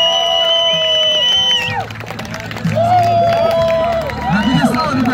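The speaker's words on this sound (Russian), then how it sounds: "Встречаем, друзья, аплодисментами." Crowd cheering and applause at the Monster-Trophy 2020 off-road awards ceremony, loud and sustained for several seconds, with shouts rising over it and someone talking over the noise through a PA.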